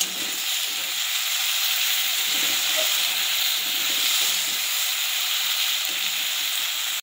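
Raw peas fry in a pan with a pinch of salt for ghugni, producing a steady, even sizzling hiss that holds at constant loudness until it cuts off abruptly.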